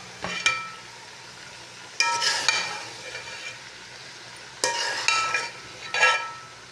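Fried okra being stirred in a cooking pan for bhindi masala, with bursts of scraping and a soft sizzle coming in three separate spells, loud and close, with no talking.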